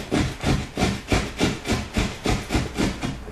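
A blade shaves the edge of a drywall cutout for a new light switch box in rapid back-and-forth strokes, about ten rhythmic rasping passes, close and loud with no talking.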